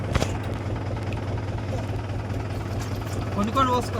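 A tractor engine runs at a steady low idle beside a fish pond, a constant droning rumble with a person talking over it.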